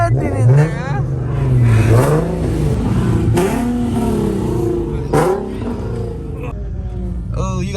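A BMW M6 engine revs up and down in repeated throttle blips, loud and close, with a group of people talking and chattering around the car.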